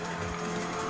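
A car skids on the handbrake in the racing game Need For Speed: Most Wanted, a brief dense burst of tire squeal over engine roar, heard loud and close with no talk.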